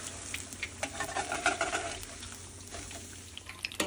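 Battered fish for tacos fries in hot oil with a busy, close sizzle and crackle, broken by light stirring scrapes and no voices.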